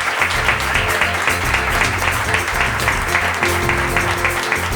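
An audience applauding at a live reading event, dense steady clapping that stays loud and even throughout without any voices on top.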